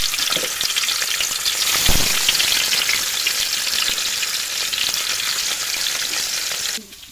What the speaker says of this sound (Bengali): এখন গরম তেলে মাছগুলো ছেড়ে দিতে হবে।